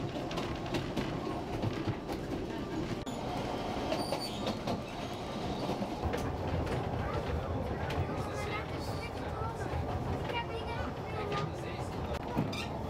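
Ffestiniog Railway train running along the causeway toward Porthmadog, heard from inside the carriage as a steady rumble with wheel clatter and occasional squeal, while a person talks over it.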